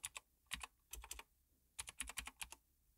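Rapid typing on a computer keyboard: bursts of crisp key clicks in quick clusters, close and clear, with short pauses between groups and no voices.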